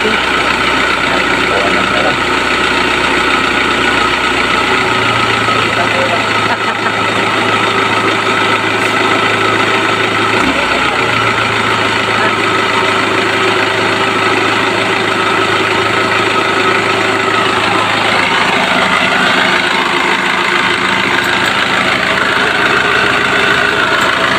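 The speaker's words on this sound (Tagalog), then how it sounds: "Ganda pa yung tunog ng makina" A steady engine idles throughout with a constant low hum and rattle, while a person talks intermittently over it.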